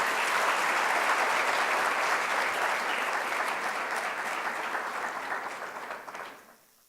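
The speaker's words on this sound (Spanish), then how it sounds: "Pido un fuerte aplauso" Loud, sustained audience applause welcomes a keynote speaker at a social sciences conference, a dense crowd of clapping hands that gradually thins and fades out near the end.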